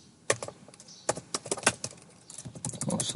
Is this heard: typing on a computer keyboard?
yes